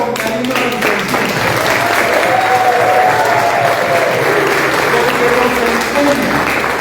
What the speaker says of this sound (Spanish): Vamos a dar un aplauso a eso.